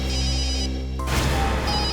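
A telephone rings with a steady electronic tone, then an abrupt burst of noisy clatter cuts in halfway through and continues loudly to the end.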